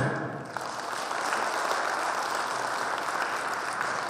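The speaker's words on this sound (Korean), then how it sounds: "박수 한번 주세요." An audience at an inauguration ceremony for a new hometown association president in Bucheon claps in a continuous, even round of applause. It stays fairly close and sustained throughout, with no voices on top.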